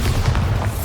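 Magic blasts from the Bombarda and Confringo spells in Hogwarts Legacy on PC, a deep rumbling boom sustained loudly through the whole short moment.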